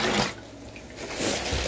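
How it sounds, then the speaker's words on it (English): Cold water is poured into a container for a turkey brine, giving a steady close splashing rush that thins midway and then swells again, with no voices. "4 cups of cold water."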